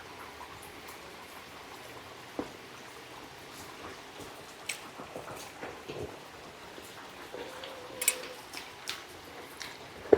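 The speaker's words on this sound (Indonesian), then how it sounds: "sambil ditemenin hujan, enak banget." Steady rain falls outside a house in a residential housing estate, a soft continuous patter with occasional louder drips and taps, no voices.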